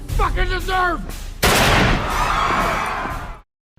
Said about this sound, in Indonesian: Dengan pistol yang ia bawa, Joker menembak tepat di kepala Murray.